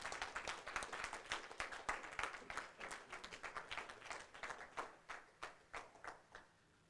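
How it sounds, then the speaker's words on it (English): An audience at the eSailing World Championship final in Trieste claps for the champion, brisk applause that thins into scattered individual claps toward the end, heard without talking. "a big round of applause and a cheer for our 2023 World Champion, Tristan Perron, Azer of France."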